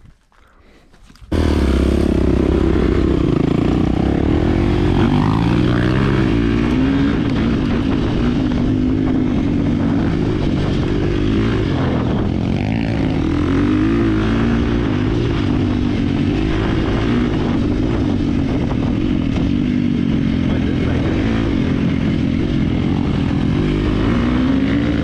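A KTM 350 XCF and a Kawasaki KX450 dirt bike race around a track. Their engines roar loud and continuous after a brief quiet start and stay near and steady throughout.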